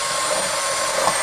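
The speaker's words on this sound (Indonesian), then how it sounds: "Ini namanya mechanical clutch-nya bekerja, koplingnya bekerja, jadi ini nggak dol" A cheap cordless drill whirs steadily while its mechanical torque clutch slips, giving a continuous buzzing grind at close range with no talk.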